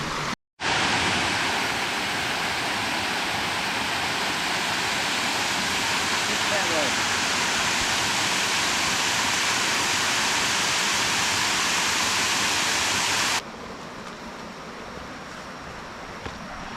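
A waterfall roars as a loud, steady broadband rush that fills the scene from start to finish, briefly cut at the opening and dropping to a slightly softer rush near the end.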